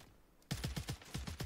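Rapid gunfire in the Warzone video game rattles out in a quick run of about eight sharp shots after a quiet start, moderately loud and close, with no talk over it.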